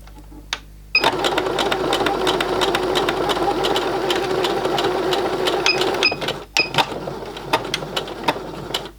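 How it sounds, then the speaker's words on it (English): A home sewing machine stitches a doll-sized bodice to a skirt for a vintage Barbie outfit, whirring steadily and loudly for several seconds after a short start, then slowing into a few brief bursts near the end. "Now I'm going to attach the bodice to the skirt, and I'm going to pin it and then stitch it."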